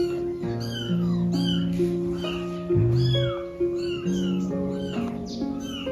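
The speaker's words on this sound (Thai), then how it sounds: "โอ้ยแมวนี่" A cat, apparently with kittens, in an abandoned house in Laos, meowing repeatedly in drawn-out, wavering cries, close by and loud, one call following another with brief gaps.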